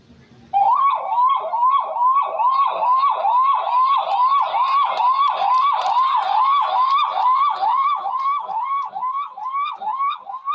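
A mimicry artist's voice imitates an ambulance siren. It is a loud, fast, repeating wail that rises and falls about twenty times in a steady rhythm, heard alone and close.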